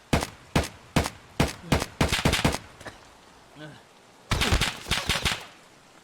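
Gunfire in the Escape from Tarkov video game, a series of loud, sharp single shots at an uneven pace, then a rapid burst of several shots close together, with a faint voice-like sound between them.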